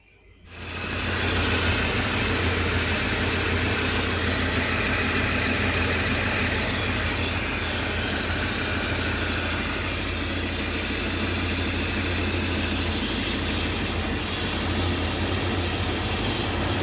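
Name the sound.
1987 Porsche 928S4 engine idling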